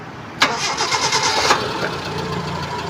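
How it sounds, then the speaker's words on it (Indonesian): A 2003 Suzuki Futura van engine cranks and catches with a sharp burst, then drops into a smooth, steady idle heard up close. "Dan sekarang kita coba starter, kita dengerin suara langsamnya."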